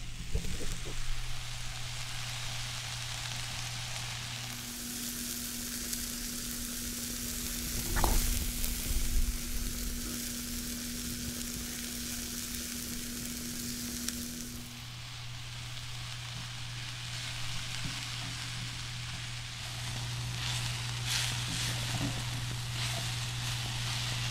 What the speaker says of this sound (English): My personal trick with tofu scramble is to put the tofu in right away.